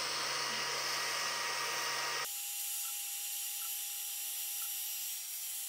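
A desktop laser cutting through metal gives a steady, loud hiss of fan or air assist that drops abruptly partway through to a quieter, even whine, close and with no speech.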